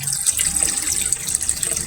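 A running filter on a backyard fish pond keeps water flowing and splashing in a continuous, fairly loud, close stream with a bright hissing edge and no pauses.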